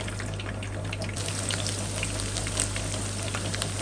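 Garlic hits hot oil in a kadhai and fries with a steady, dense sizzle and crackle that holds evenly throughout, close and fairly loud with no talking.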